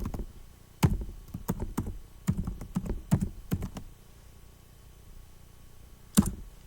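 Typing on a computer keyboard, a quick run of close clicks and taps with short pauses, then one last keystroke after a quiet gap.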